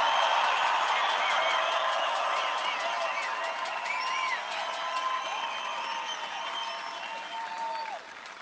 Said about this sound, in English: I think we all should give them a tremendous round of applause